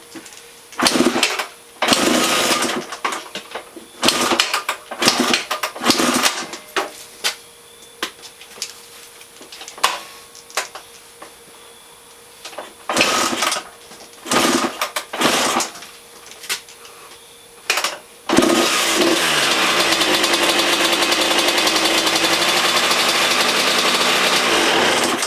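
A Suzuki RM 125 two-stroke dirt bike, just given a top end rebuild, is kicked over in short repeated bursts that sputter and die, then catches and runs steadily and loudly for the final several seconds.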